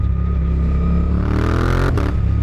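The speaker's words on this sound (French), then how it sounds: "Vous pouvez monter dans les tours parce que ça fait un petit son sympa." Suzuki GSX-8R motorcycle engine revving up close, a loud steady idle rising smoothly in pitch as the revs climb, with no talking.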